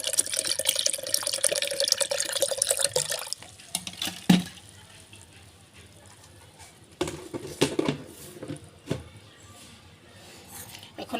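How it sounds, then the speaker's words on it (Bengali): Cold water from the fridge is poured into a blender jar with other ingredients for date lassi. A steady splashing pour lasts about three seconds, followed by quieter clinks and handling noises. "সব কিছু দিয়ে এখন আমি পানি দিয়ে দিব, আপনার ফ্রিজে থাকা পানি"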